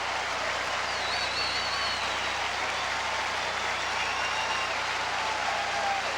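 A Fenway Park crowd at a baseball game applauds a diving catch, a dense, steady wash of clapping and cheering that fills the whole stretch at an even loudness.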